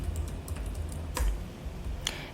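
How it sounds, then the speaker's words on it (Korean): Keys on a computer keyboard being pressed for a Ctrl+F shortcut, a few sharp clicks against a steady low hum, close and fairly soft, with no talk. "키보드에 컨트롤과 F를 동시에 눌러보세요."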